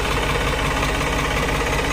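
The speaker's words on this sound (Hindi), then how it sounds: "तो ट्रैक्टर चलता देखियो भाइयों" An old tractor engine runs steadily, a loud, close, continuous knocking rumble with an even beat and no change in pace, no voices over it.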